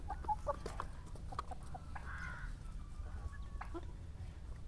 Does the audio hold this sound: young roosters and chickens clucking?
yes